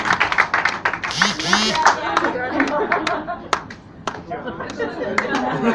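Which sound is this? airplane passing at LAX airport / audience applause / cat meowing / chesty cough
audience applause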